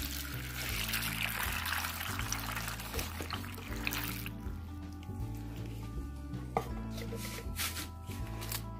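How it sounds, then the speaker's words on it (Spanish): Water poured from a large glass while making pickled chiles in vinegar, a steady splashing trickle lasting several seconds beneath continuous background music. "le vamos a poner este vaso grande de agua"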